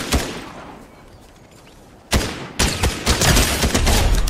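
Fortnite gunfire rings out in bursts: a single loud shot near the start, then after a lull a sharp report followed by a rapid, dense volley of close, loud shots.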